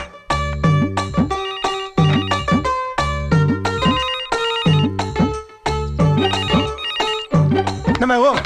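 A telephone rings with a loud, repeating melodic ringtone that cycles about once per second throughout.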